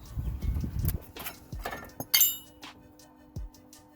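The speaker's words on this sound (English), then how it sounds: "Now this caliper pulls up." Brake caliper pulled up off a car's wheel hub during a pad change, with worn pads: a few sharp metallic clinks and knocks, a rattly scrape near the start, then scattered brief clunks close by.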